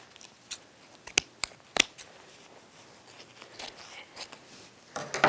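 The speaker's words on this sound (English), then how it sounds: "we're going to cut off the elastic part" Scissors cut the elastic part off a dress, a series of sharp, close snips at irregular intervals with fabric rustling between them.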